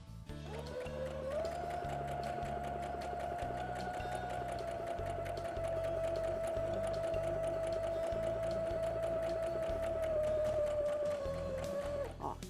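A sewing machine runs steadily while stitching a fabric pacifier-holder bib along a traced pattern line, a continuous close motor whir with a fast needle rhythm lasting throughout, with no talking.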